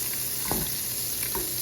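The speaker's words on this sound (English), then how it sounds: "I'm about to flip my sausages over" Beef sausages sizzle in a frying pan, a steady close hiss with a couple of brief scraping bursts as they are flipped over.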